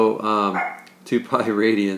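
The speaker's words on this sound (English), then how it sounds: "That's my dog." A house dog barks a few times beside someone talking through a math explanation, the short yips mixed with and partly under his voice at close range.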